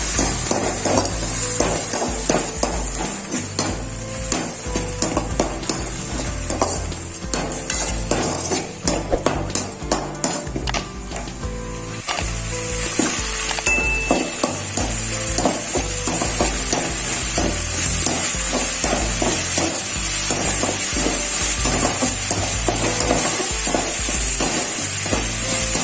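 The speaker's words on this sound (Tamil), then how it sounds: "வெங்காயம் நல்லா வதங்கிடுச்சு. இப்போ குட்டி சைஸ் தக்காளியை சேர்த்துக்கலாம். தக்காளி நல்லா வதங்கிக்கலாம்." Onions and small tomatoes sautéing in a pan for egg gravy: a long run of rapid spatula taps and scrapes against the pan over a constant loud sizzle, the stirring easing in the second half as the frying hiss holds steady.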